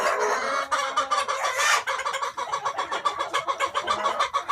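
A flock of about 120 chickens on a farm clucks and squawks continuously at close range, overlapping calls in a busy rhythmic chatter, no talking.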